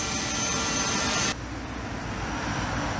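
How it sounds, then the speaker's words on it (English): A DJI Mavic drone hums and whines with a steady buzzing motor drone, loud at first and then dropping sharply to a softer, duller whir partway through. "The drone is alive again."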